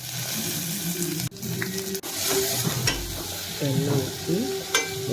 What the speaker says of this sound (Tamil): எண்ணெய் ஊற்றி வெங்காயம் போட்டு நல்லா வதக்கிக்கணும்